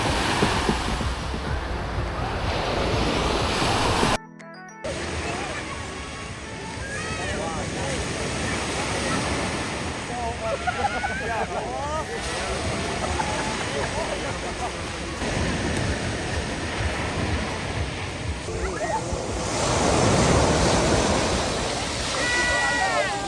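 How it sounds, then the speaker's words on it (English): Surf rolls and breaks continuously at Malpasa Beach in Varigotti, loud and close, with wind buffeting the microphone and voices talking over it throughout. "This is Malpasa Beach in Varigoti."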